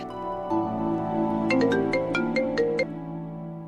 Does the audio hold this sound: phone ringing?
yes